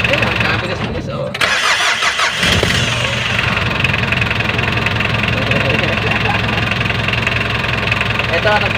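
An Isuzu truck engine's starter motor cranks fast, making a steady, loud mechanical whirring and churning that runs throughout with only a brief dip near the start, while voices sound faintly underneath.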